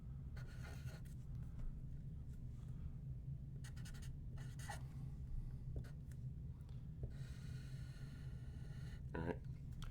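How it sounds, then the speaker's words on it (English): Math problems are written out by hand, heard as faint, intermittent scratchy strokes over a low, steady room hum. "Notice how careful I am, how much I take my time in writing out these problems."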